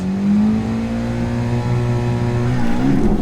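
Two 700 bhp drag cars, a Mitsubishi Evo and a Subaru Impreza, rev hard at the start of a drag race, a loud sustained engine note climbing steadily in pitch before shifting near the end, close to the microphone.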